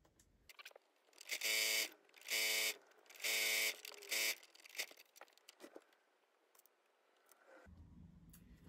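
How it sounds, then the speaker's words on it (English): A sewing machine stitches the top edge of a fabric Advent calendar, running in four short whirring bursts with quiet pauses between them, fairly soft. "Now I'm sewing the top edge"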